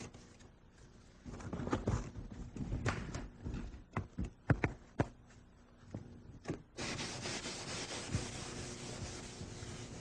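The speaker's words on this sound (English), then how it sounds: "Now what I'm doing here is just finishing this up with a little bit of 400 grit paper" Rhythmic scraping of fine 400-grit sandpaper on primer, short strokes followed by steady continuous rubbing, close and fairly loud.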